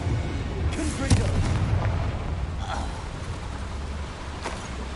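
A Confringo fire spell blast in Hogwarts Legacy rumbles as a dense, continuous low roar, with brief bursts and crackles on top. It stays loud throughout with no clear single impact.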